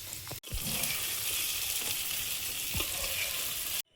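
Oil sizzles steadily in a frying pan, a dense, even hiss that holds for nearly four seconds between two brief breaks, with a few faint clicks from the pan and no voices.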